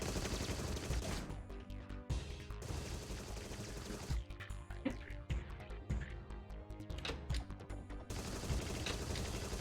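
Rapid video-game gunfire in Agent 64, a GoldenEye-style shooter, crackles in dense, overlapping bursts of shots and automatic fire with brief lulls, loud and continuous across the stretch.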